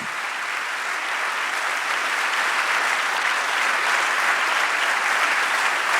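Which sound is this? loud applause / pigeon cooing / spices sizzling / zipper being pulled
loud applause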